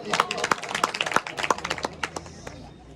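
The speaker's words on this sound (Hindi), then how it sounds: "आपके लिए जोरदार ताली।" Loud clapping from an audience at a school event, sharp irregular claps close by that thin out and fade toward the end, with voices mixed in.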